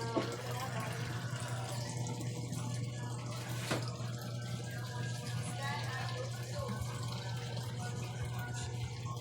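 Water gushes steadily from a tap, a continuous splashing rush under a low hum, with a brief louder splash partway through.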